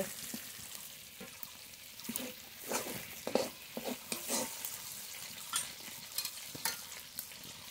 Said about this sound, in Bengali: আস্তে আস্তে জাল দিয়ে খুব ভালো করে পটলটা ভেজে নেব